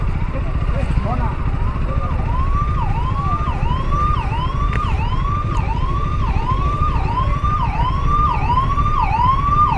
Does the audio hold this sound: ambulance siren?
yes